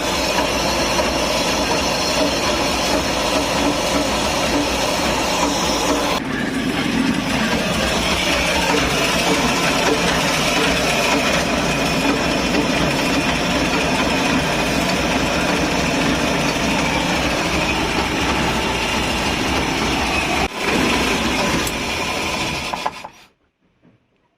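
A rough, worn UAZ 452 engine with heavy blow-by idles steadily with a raspy, breathy chugging for about twenty seconds, then cuts off into silence.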